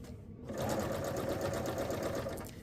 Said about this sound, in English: and I'm stitching them together.